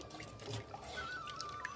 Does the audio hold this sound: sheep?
no